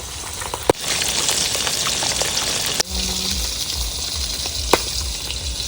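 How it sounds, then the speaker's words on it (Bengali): Pabda fish fry in hot oil with a dense, steady crackling sizzle close by, broken by a couple of sharp clicks and a short dip partway through. "মাছটা ভাজা হয়ে গেছে, তুলে নি।"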